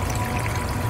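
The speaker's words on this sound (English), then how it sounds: "every time the water level jumps up really high, or high enough to go over the top of that PVC, it creates a siphon" Water pouring and gurgling down a PVC siphon top skimmer in a fish tank, a dense, continuous close rush that stays even for the full second.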